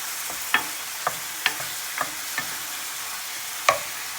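Chicken being stir-fried in a hot pan, with a soft steady sizzle under a handful of sharp spatula scrapes and clacks at irregular intervals, close and fairly quiet, no voices.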